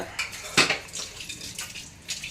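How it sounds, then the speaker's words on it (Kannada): Water being poured into a simmering pot of goat and sheep leg soup, heard as a short splashing gush with a few burbling spurts, close and fairly soft, with no voices. "ನೀರು ಹಾಕೋಣ ಇದಕ್ಕೆ"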